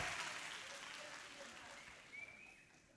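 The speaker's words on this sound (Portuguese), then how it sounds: "Vamos receber a Renata com uma forte salva de palmas." A church congregation at a Sunday evening service applauds a woman called up to the front, a soft, fairly distant wash of clapping that tapers off, with voices faintly underneath.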